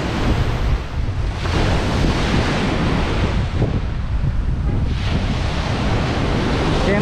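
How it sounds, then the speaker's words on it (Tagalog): Strong waves crash and surge in Manila Bay during a typhoon, a loud, continuous roar of surf with heavy wind buffeting the microphone and swells rising every few seconds. "lakas ng alon mga kababayan."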